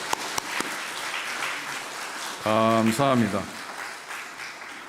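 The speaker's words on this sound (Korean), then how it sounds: "박수로 환영하겠습니다." Church congregation at a Korean Sunday service clapping to welcome a guest, a broad steady wash of applause running through the clip while someone speaks briefly over it.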